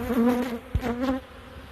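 Honeybees hum and buzz close by at an open hive frame in short, wavering bursts, a dense insect drone rising and fading.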